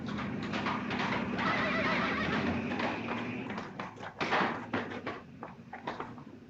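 A man imitating a horse with a loud, close neigh and whinny in a 1949 comedy film, backed by clopping and knocking sounds, with a burst of sharper noise near the end.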